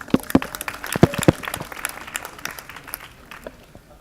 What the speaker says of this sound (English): Yet another round of applause.